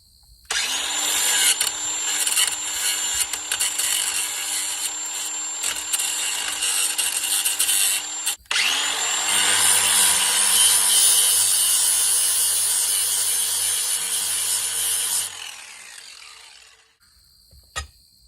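Abrasive rubbing as a fitting on a Spector Duramax Flo N Go rolling-wheel fuel tank is sanded so a nylon nut will fit, a loud continuous scraping with a brief pause midway, then tapering off.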